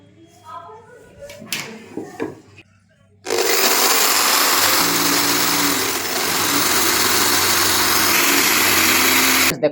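An electric drill bores holes while a room heater is being built, starting abruptly after a few seconds of quieter clatter and talk, then whining loudly and steadily to the end.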